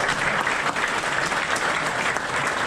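Steady round of applause from an audience honoring Rick Wagner and colleagues at a Kansas gathering, dense and sustained clapping throughout with no voices standing out.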